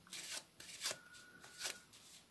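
A deck of playing cards is shuffled during a card-control trick, giving three quick riffling bursts in close, dry succession with short pauses between them.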